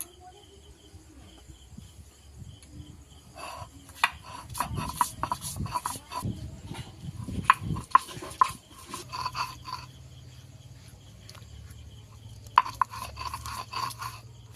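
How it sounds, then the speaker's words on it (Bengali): Fresh peeled ginger ground into paste by hand on a stone for a Bengali potato-eggplant fish dish, giving uneven bursts of close scraping and crunching rubs with a low steady hum in the background. "আদাটা বেটে নেব।"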